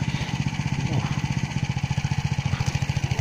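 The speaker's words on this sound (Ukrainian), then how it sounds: "Слухаю, як працює двигун" A walk-behind tractor engine runs during harrowing, a steady rapid low putter with regular pulsing beats, close by and fairly even throughout.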